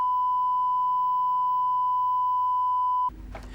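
A turntable record plays one steady pure tone for about three seconds, loud and unbroken over a faint low hum, before it cuts off abruptly into a short burst of noisy clatter.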